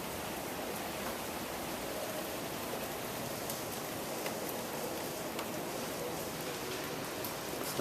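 Light rain falls on a deserted city street as a hurricane approaches, a soft, even hiss that stays constant and faint with no other sounds standing out.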